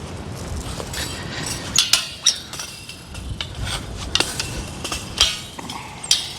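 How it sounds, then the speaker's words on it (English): Sharp metallic knocks from a makeshift hammer striking fence hardware during a fence repair, irregular single blows spaced a second or so apart, moderately close with quiet gaps between them. "There you go, universal hammer right there."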